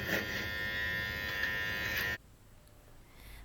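An electric shaver buzzes steadily and close up while shaving a face, holding a bright, even drone for about two seconds before it cuts off abruptly into near silence.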